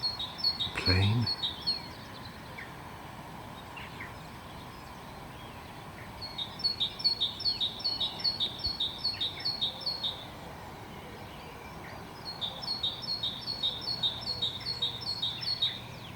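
Birds chirp and tweet at dawn on a quiet Easter Sunday morning, with clusters of high song phrases repeating in bursts at a moderate distance over a steady low hum of background ambience.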